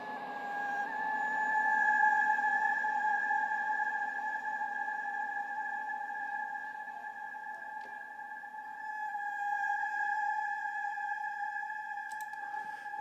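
Ambient pad from a reverb ambient generator, a soft, sustained tonal wash with steady held pitches that slowly swell and recede, playing alone.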